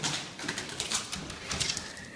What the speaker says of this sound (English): A dove somehow got in the barn, even though all my doors were closed last night